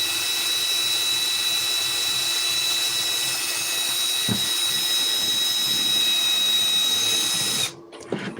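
A power drill whines steadily at close range for several seconds, its high-pitched motor tone holding constant before cutting off abruptly near the end.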